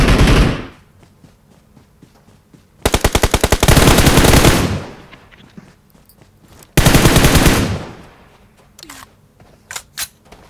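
Automatic gunfire in the mobile battle-royale game PUBG Mobile: two loud sustained bursts of rapid shots, each lasting about a second or more, separated by quieter stretches with scattered game sounds and faint clicks.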